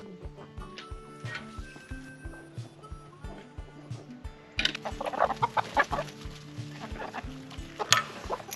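Chickens on a farm in freezing winter weather cluck in a steady, rhythmic stream close by, with the clucking growing louder and busier partway through and a few sharper squawks mixed in.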